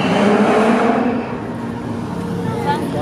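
A launched roller coaster at Phantasialand roars through hard acceleration as a loud rushing whoosh with wind noise, easing slightly after the first second and continuing steadily.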